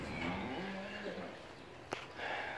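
Cows moo in a steer barn with low, drawn-out calls early on over steady barn background noise, followed by a short sharp knock near the end.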